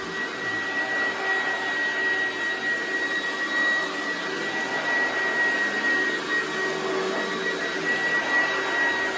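A 1996 Oreck XL9200 upright vacuum cleaner with dual speed and dual headlights runs steadily with a constant motor whine and airy hum, close and unbroken, with no voices.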